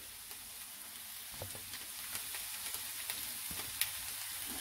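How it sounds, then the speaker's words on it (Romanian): Chopped onion frying in oil in a pan, a steady soft hiss of sizzling with faint crackles and occasional light pops or stirring clicks, close and quiet throughout. "Deci adaug ceapa mea la prăjit și aștept să prăjească până se face o culoare aurie"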